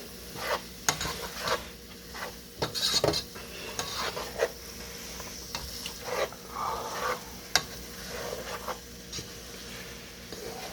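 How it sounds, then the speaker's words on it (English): Garlic, parsley and onions cook in a pan for paella, a steady soft sizzle broken by repeated scraping stirs and occasional clinks of a utensil against the pan, close and moderately loud with no voices. "you want to add garlic, parsley, and onions to this. And cook it for about 2-3 minutes."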